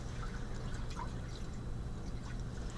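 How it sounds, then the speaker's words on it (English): Water drains out of a household water filter assembly in a soft, continuous trickle with faint drips, quiet and close with a low hum underneath. "Drain the water out."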